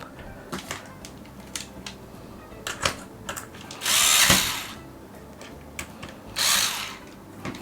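A power screwdriver drives screws into a wall switch plate to mount a small smart-switch remote, two short whirring bursts near the mic over a quiet room with faint handling clicks.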